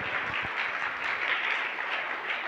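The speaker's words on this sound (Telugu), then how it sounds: "అందరు గట్టిగా చప్పట్లు కొట్టాలి" A church congregation applauds during a sermon, a steady wash of many hands clapping together that holds at an even level throughout.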